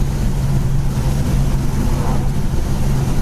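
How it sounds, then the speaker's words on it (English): A 1969 Dodge Super Bee with the 440 Six Pack tri-power engine and four-speed cruises straight down the road, giving a steady, low, continuous drone that holds even throughout with no breaks. "The tri-power kicks right in, runs smooth."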